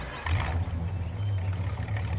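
A rough, low engine of an old Fiat truck in Farming Simulator 19 drones steadily and loudly close by, rumbling without pause throughout; nobody speaks.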